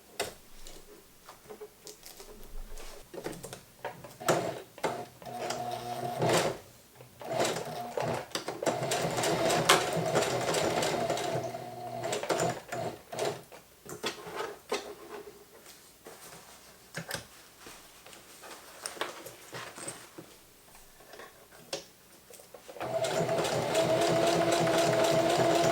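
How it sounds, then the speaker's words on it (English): A Singer Heavy Duty sewing machine stitches in bursts of steady, fast mechanical whirring and clatter, with short pauses between runs and a louder, sustained run near the end. "I'm just going to sew the rest of the way around with the heavy duty"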